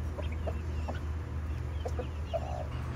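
Brahma chickens cluck softly and intermittently in a bird shop, short scattered clucks and chatter over a low background rumble, no speech.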